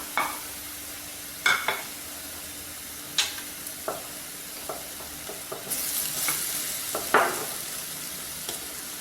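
Browned onions frying in a little oil with ground coriander, cumin, garam masala and turmeric for paneer masala: a steady close sizzle punctuated by distinct spatula scrapes and clinks against the pan.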